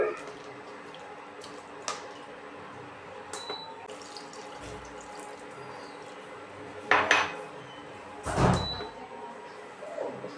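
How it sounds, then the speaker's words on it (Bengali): Water pours into a pot of rice in a home kitchen, with a running-water splash amid clinking pots and utensils, growing louder in two bursts near the end. "তো আমি 2 কাপ জল দিয়ে দিলাম।"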